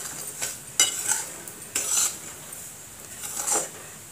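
Semolina (rava) roasting in ghee in a pan, heard as soft scraping stirs at a steady pace, each stroke leaving a brief dry rasp over a faint background sizzle; close and fairly quiet, with no talking.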